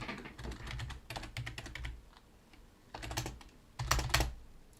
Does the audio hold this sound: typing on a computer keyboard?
yes